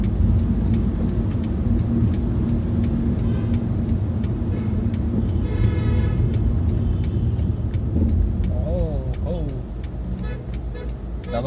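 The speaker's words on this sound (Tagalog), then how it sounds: "pumasok na itong mga malalaking sasakyan" Large vehicles crawl through heavy roadside traffic, a continuous low engine rumble with brief horn toots, while people talk over the noise.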